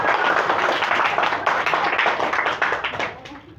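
Brisk clapping from an audience at a yoga championship, dense and lively handclaps that hold strong before tapering off near the end.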